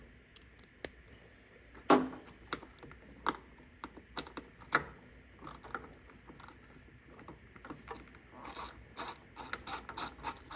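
Ratchet wrench on a short extension backing out 7mm bolts during an S10 pickup bulkhead connector and cowl leak repair, a faint close series of quick clicking ratchet strokes with scattered metallic taps and handling clatter, no talking.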